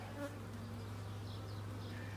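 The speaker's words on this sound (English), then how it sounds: "we got about 5 or 6 bees all over that wasp" Several bees swarm and buzz over a wasp at a package beehive, a steady dense drone with a low hum, close and continuous, with no voices.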